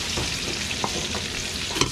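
Garlic cooking in oil for chicken pastel in a catering kitchen: a dense, continuous sizzle with a few soft clinks of stirring, close and even throughout, with no voices.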